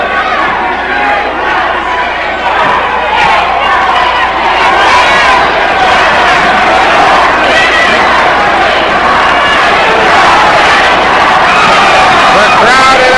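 A packed arena crowd at a Stampede Wrestling match roars in a dense, continuous wall of shouting and cheering that stays loud and builds slightly throughout, with excited voices blending together.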